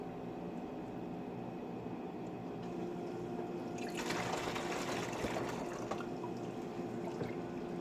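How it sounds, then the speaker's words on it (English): A cup of water poured into a blended almond nut milk mixture, a faint liquid trickle and splash rising midway and continuing close by with no talk. "I'll probably add another cup of water and I'll taste it"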